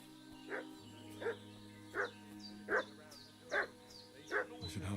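A dog in a video game barks in an evenly spaced series of six sharp, fairly close barks over a quiet ambient background, with no talk.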